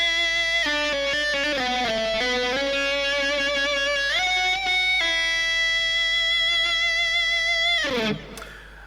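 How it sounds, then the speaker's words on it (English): Electric guitar driven by an EBow in harmonic mode, giving feedback-like sustained upper overtones that slide between pitches, loud and continuous, then fading into a noisy release near the end. "That sounds a lot more like kind of feedback from an amp if you had a loud amp next to you as well"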